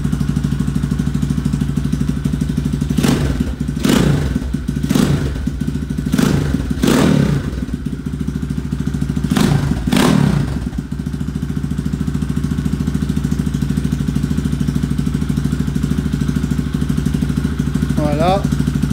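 A small dirt motorcycle, a CRZ/ERZ 150 or 250 class bike, idles steadily after an oil change with a close, constant mid-pitched engine drone, interrupted by several loud thumps and clatters early on, then settling into an even idle.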